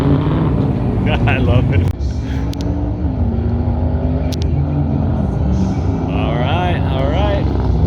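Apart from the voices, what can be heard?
pro touring truck driving an autocross course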